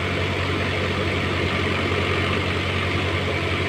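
A Swaraj tractor engine runs steadily at about 2000 RPM, a loud, continuous low diesel drone with an even throb and no breaks or voices.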